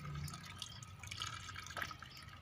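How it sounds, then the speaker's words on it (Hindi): Water poured onto a potted hybrid rose cutting, a steady close trickle and splash with small drips, no talking. "ये पानी देना है इसको,"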